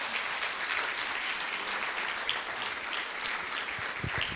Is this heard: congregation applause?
yes